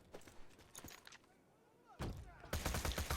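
Seeker weapon gunfire in Borderlands 2, several sharp bursts of shots early on, then a loud, heavy run of rapid fire near the end, with faint game noise between bursts.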